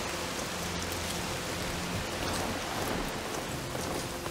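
Steady dense rain mixed with a broad roar of strong wind in the video game Horizon Forbidden West, unbroken and fairly loud throughout with no voices.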